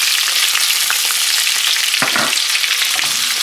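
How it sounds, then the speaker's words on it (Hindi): Whole coriander seeds and ajwain crackle and fry in hot ghee for a cauliflower paratha filling, a steady loud sizzle with a brief stir-like scrape midway, no voices. "इसमें पहले आप डालेंगे धनिया साबुत, ये क्रैकल होना शुरू हो जाता है"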